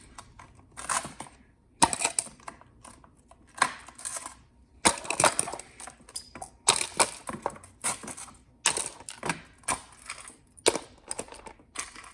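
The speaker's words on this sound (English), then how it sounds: "So, pop this ice in the cup." Ice cubes drop into a cup for iced coffee, a string of sharp clinks and crunching clatters in irregular bursts with short quiet gaps between, close and distinct.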